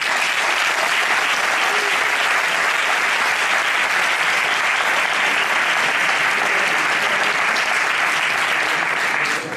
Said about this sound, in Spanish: yo sí que quisiera pedirles, para todos ustedes, un aplauso porque se lo merecen